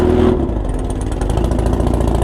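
A motorcycle engine runs steadily on the Bonneville Salt Flats, loud and close, with a rough, pulsing mid-range drone that barely changes across the short stretch and no voices.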